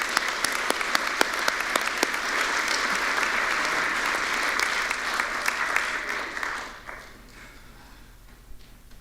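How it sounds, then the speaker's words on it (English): An audience at a grand opening event applauds warmly, with steady dense clapping that holds for about six seconds and then fades out to a few scattered claps. "So let's give them a round of applause."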